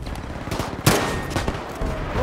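Rapid gunfire from Battlefield 5, dense bursts of automatic shots with a sharp louder crack near the middle, continuing loud and close throughout.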